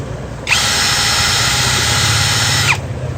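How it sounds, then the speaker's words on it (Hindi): A heavy-duty 20 volt cordless drill with 4 amp batteries whirs loudly and steadily for about two seconds, starting and stopping abruptly, close up with no talking. "बहुत हैवी ड्यूटी ड्रिल है।"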